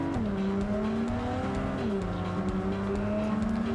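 Car engine hum from driving in Cyberpunk 2077, a steady drone with gradual shifts in pitch as the vehicle speeds along, continuous and fairly loud with no talk over it.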